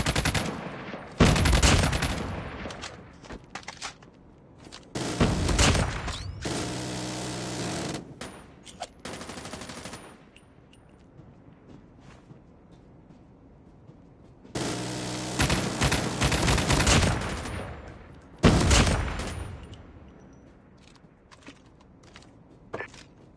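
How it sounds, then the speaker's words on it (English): A sentry gun fires in Call of Duty Mobile during a zombie-mode match on a high-rise map, with several loud bursts of rapid automatic fire that stop and start, separated by quieter gaps. "Sentry gun deployed."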